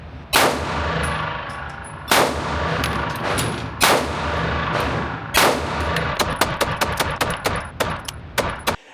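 Rapid gunshots from a Springfield Armory Prodigy Comp pistol, the last magazine of a 1,000-round test, come as loud sharp cracks, first spaced a second or two apart, then quickening into a fast string near the end.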